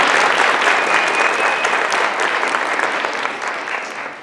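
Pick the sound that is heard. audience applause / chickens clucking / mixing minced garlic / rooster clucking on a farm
audience applause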